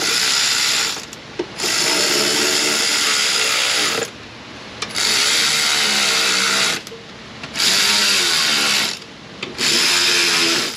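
An electric ratchet runs down bolts on a plastic Chrysler Pentastar 3.6 engine part, whirring in four loud bursts of a couple of seconds each, separated by brief pauses.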